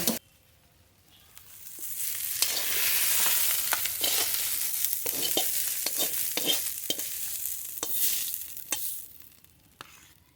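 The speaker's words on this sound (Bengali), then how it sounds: "এবার নেড়ে নেড়ে খুব ভালো করে ভেজে নেব।" Radish greens stir-fry in a pan, a steady close sizzle broken by repeated scraping stirs of a spatula, with no one talking.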